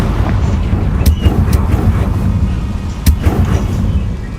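Confringo fire-blast spell cast in Hogwarts Legacy, heavy booming impacts that land a few times over a low rumbling background, loud and close.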